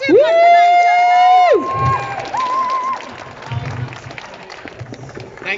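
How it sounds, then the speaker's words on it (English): Crowd applause and whooping cheers for Nigel at the Senedd in Cardiff, a loud opening whoop followed by scattered clapping and calls, with voices talking and shouting over it. "So massive hands, round of applause please for Nigel"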